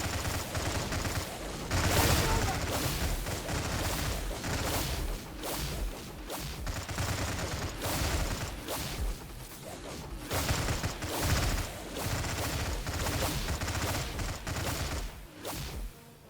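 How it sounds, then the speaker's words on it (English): A ground cannon fires in the sci-fi strategy game Stargate at War, rapid bursts of booming shots and mechanical clatter repeating in dense volleys throughout, loud and continuous with brief lulls. "Alright, that is a ground cannon."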